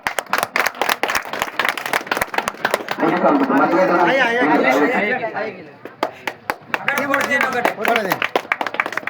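A crowd at a village prize-giving ceremony for the two-teeth bull category breaks into sustained clapping and chatter, loud and close, with scattered claps before and after the main burst.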